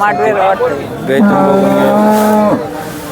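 A cow lets out a long, loud moo nearby at a cattle market in Sangola, deep and drawn out, with faint background noise around it.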